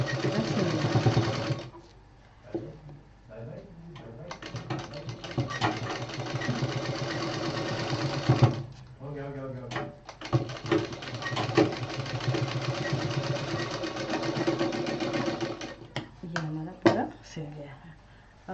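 A sewing machine stitches two pieces of cloth together for a foldable hanging pouch, running in close, loud bursts of rapid mechanical whirring with short pauses between runs, while a person talks over it.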